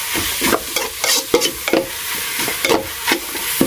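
Chicken being stir-fried in a pan, with repeated bursts of sizzling and scraping as the meat is tossed and stirred in an uneven rhythm, loud and close with no talking.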